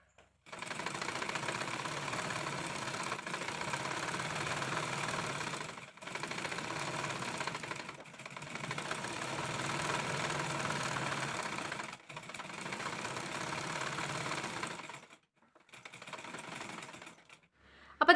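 A sewing machine stitches a cigarette pant in a rapid, even mechanical whir, running in several long bursts separated by brief pauses, close and alone.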